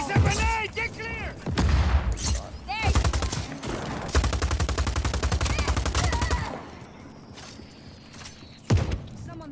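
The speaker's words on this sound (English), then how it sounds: "Who's throwing grenades?" Grenade explosions and bursts of rapid gunfire in Just Cause 4, booming and crackling in loud clusters with shouting voices over the combat.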